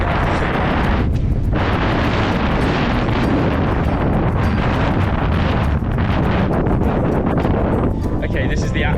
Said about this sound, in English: Don't know if you can hear me because it's so windy